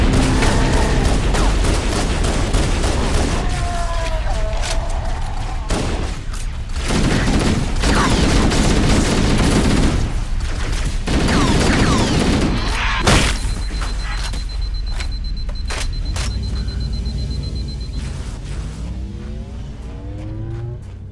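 Assault rifle and Magnum fire in Halo CE while defending a position against the Covenant: bursts of rapid shots and heavy single cracks among explosions and vehicle noise, loud and near, with short pauses between volleys.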